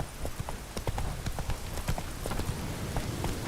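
Steady horse hooves clip-clop at a trotting rhythm in The Witcher 3, close and continuous, repeated sharp knocks over a dull low rumble with no one speaking.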